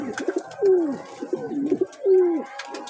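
Allahabadi Chini Kaldama pigeons cooing close by, two drawn-out swooping coos among softer throaty burbles, with no one talking.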